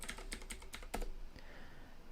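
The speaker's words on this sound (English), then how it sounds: "We type." Fingers type quickly on a computer keyboard during a Linux setup on Windows, with a rapid run of close, crisp key clicks and a heavier keystroke near the middle, no talking.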